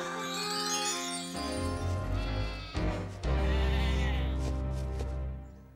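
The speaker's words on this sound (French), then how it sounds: "Et j'avais un troupeau de 10 moutons." Sheep bleating in a cartoon farm video game, a few wavering bleats over steady background music, moderately loud and close, with no talking.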